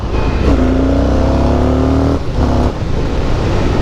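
An Indian FTR R Carbon motorcycle engine in sport mode revs hard and accelerates up through the gears, loud and close, with a brief gap as it shifts before pulling again.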